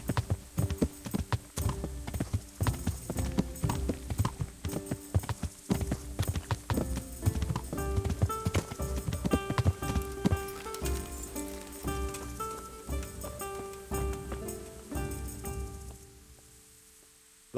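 Hooves clip-clop in a fast, steady rhythm during a horse race in the video game Kingdom Come: Deliverance, close and clear, over a musical background, before the hoofbeats stop and the music fades out.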